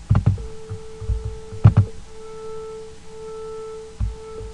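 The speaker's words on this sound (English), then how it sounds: "We heard the sound get louder and softer." Two close steady tones sound together, their combined level slowly swelling and fading in a beating pattern, with a few soft thumps and knocks nearby.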